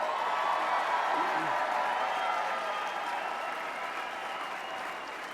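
Sustained audience applause at an annual Democratic party dinner, dense clapping from a large crowd in a hall that slowly fades, with faint cheers mixed in and no one speaking over it.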